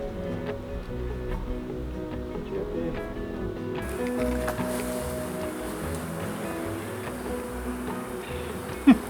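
Bees hum in a low, steady drone around an open Langstroth hive during a brood inspection, close by, with a faint rushing background and a brief knock near the end.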